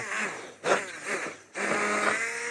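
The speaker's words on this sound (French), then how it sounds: "Regardez, le mixeur plongeant." An immersion blender whirs loudly in a pot of carrot purée and cream, a steady motor drone that briefly drops out twice as the blade is lifted and plunged back in, with no talking over it.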